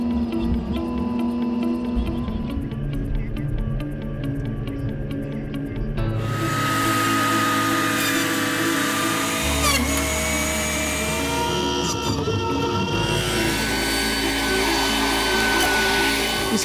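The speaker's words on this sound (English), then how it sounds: "This mobile debarker is truly captivating, resembling a dinosaur attraction from the prehistoric era." A mobile debarker processes logs with a loud, continuous mechanical roar and grinding. The engine drone shifts pitch and load several times as the machine works.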